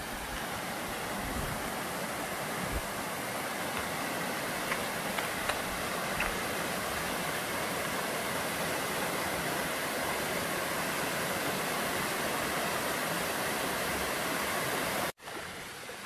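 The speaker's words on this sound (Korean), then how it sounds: "자, 잠룡 폭포." Steady rushing roar of the Jamryong waterfall in Korea, dense and unbroken, close by, cutting out abruptly near the end.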